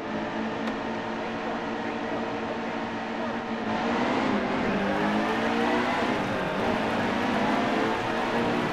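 Race cars roar around the Phoenix oval in NASCAR Heat 2, a Grand National race, their engines a dense, steady drone that swells louder partway through and stays full to the end.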